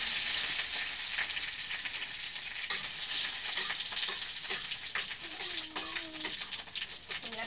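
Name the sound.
whole mustard seeds sizzling in hot oil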